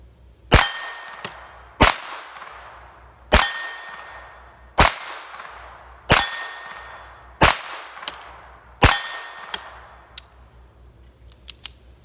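Eight or so snappy shots from a Colt Junior .25 ACP pocket pistol with a factory magazine, each followed by a bright metallic ring from steel targets about 7 to 8 yards away, spaced at a steady pace with a quicker cluster at the end.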